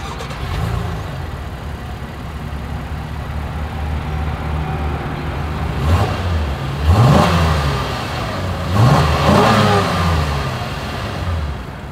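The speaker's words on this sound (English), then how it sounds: "As always, here is that exhaust clip." A 2024 Honda Pilot SUV's exhaust revs up from a steady idle in a few sharp blips, each rising and falling back, loud and close with no talking.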